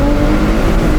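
Ferrari 296 GTS with a 2.9 litre twin-turbocharged V6, Novitec-tuned, holding a loud, close, steady droning engine tone with no revving or change across a brief moment.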